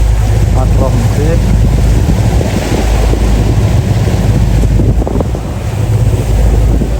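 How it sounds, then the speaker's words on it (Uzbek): Strong wind buffets the microphone aboard a pirate-style tour ship sailing the Mediterranean off Alanya, with a constant loud roar of wind and water around the moving hull. "Bizning kemamiz bo'lsa yurishda davom etyapti."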